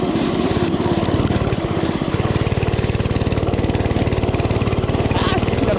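A cheap mini bike's small engine putters loudly and close up while being ridden, a steady rapid rhythmic chug throughout, with a rider's voice talking over it.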